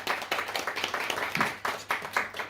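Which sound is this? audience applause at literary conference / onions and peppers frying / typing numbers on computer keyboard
audience applause at literary conference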